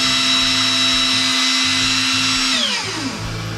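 An Inventables X-Carve CNC spindle under automatic control whines at a high steady pitch, then spins down in a falling glide near the end, close and alone.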